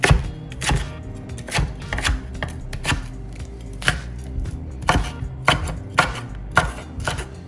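A knife chops through a cubanella pepper on a cutting board, cutting it into strips with a series of sharp, close, fairly regular board knocks and no talking.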